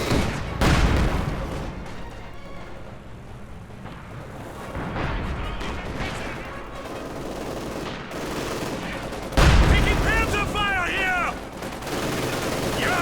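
Gunfire and explosions in the Company of Heroes 2 real-time strategy game during a 2v2 match, with booming blasts and crackling shots layered over continuous battle noise, while a commentator talks throughout.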